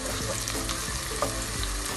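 Chopped fresh garlic fries in a pan while being stirred, giving a steady loud sizzle with soft scraping strokes throughout, no voices present.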